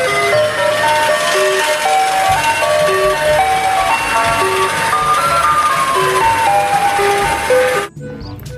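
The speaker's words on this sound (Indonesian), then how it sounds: "Di sini ada mobil es krim." A toy ice cream truck plays its tinkling electronic jingle, a bright repeating melody heard loud and close for several seconds before it cuts off abruptly.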